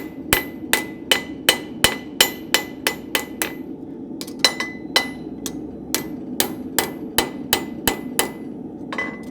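Hammer blows on a Kawell horseshoe, the hammer angled to push material back down, ring out alone in a steady run of sharp, close metallic strikes, about two per second with a brief pause midway.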